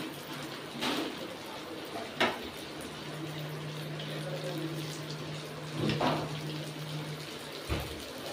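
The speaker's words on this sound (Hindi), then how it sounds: "देखिए फ्रेंड हमारा तेल गर्म हो चुका है और इसमें हम ब्रेड डाल रहे हैं।" Bread pakora fries in hot oil in a kadhai, a steady dense hiss of bubbling oil throughout with a few brief louder crackles and splashes, close up and alone.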